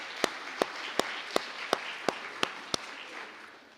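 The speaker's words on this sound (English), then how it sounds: "So applaud yourselves too, because of your support, your students are successful." A small audience claps at an award and scholarship celebration, sounding as a short run of evenly spaced, distinct claps that then fade into a softer, thinning patter.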